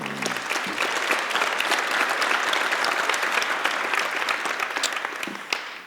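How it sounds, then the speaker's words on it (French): An audience at a hydrogen symposium gives a moderator a steady, even round of applause, dense clapping held at a moderate level throughout. "notre animateur, que vous pouvez applaudir"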